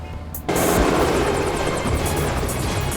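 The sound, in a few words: helicopter flying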